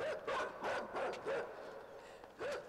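A dog in the video game Inside barks in a quick, rhythmic run of about five to six yaps, moderately faint and without any voices over it.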